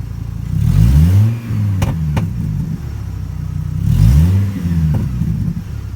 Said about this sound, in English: So here it is, 2012 Chevy Colorado LT 4x4 with no muffler